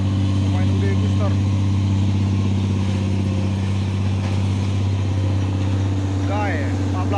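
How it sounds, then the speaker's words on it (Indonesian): An empty UD trailer truck's engine rumbles in a low, steady drone close by, with someone talking over it throughout. "Belakang gua ada truk trailer kosongan ini ya, pemain UD Guster."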